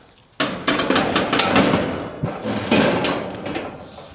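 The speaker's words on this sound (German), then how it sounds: "dann stellen wir die Gasflasche in die dafür vorgesehene Halterung" A gas cylinder is set into its holder on a gas grill, giving a sequence of hollow metallic knocks and scrapes close by over a few seconds.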